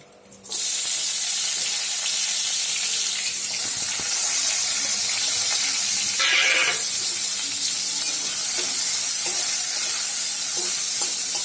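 Dry red chilli, chopped garlic, onion and green chilli frying in hot oil, a loud steady sizzle that bursts in suddenly and keeps hissing close up, with occasional stirring scrapes.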